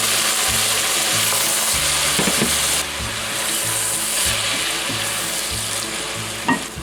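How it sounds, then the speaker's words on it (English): Tomatoes and green chilies tipped into a pot of chili, a wet hissing sizzle with stirring and clinking, steady and close, easing slightly partway through. "Putting in the tomatoes and the green chilies"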